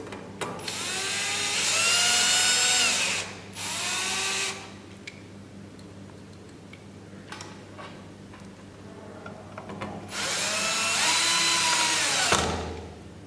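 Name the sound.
power screwdriver driving screws into Sony SPF5000ES board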